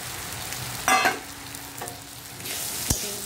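Pieces of pointed gourd drop into a spice paste frying in a pan, giving a couple of soft thumps and scraping stirs over a steady, moderate sizzle.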